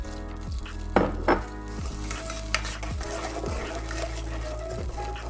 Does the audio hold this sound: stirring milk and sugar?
yes